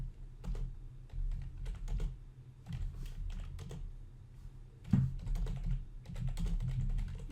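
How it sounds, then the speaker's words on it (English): Fast typing on a computer keyboard during a Minecraft livestream, a steady run of close, clattering keystrokes that come in bursts with brief pauses between them. "Let me finish typing all this stuff in."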